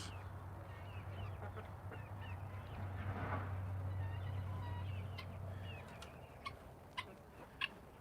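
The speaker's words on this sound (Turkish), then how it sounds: "Kürk tavuğumuz ve civcivler arkadaşlar." Soft, low clucking from a frizzle hen among chicks, with faint peeping and scattered chirps, quiet and close, plus a steady low hum in the background.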